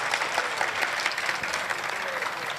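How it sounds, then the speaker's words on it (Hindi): Steady applause from a mushaira audience fills the hall, dense clapping at an even loudness throughout with no voice above it. "अता कीजिए, तालियां होनी चाहिए यार।"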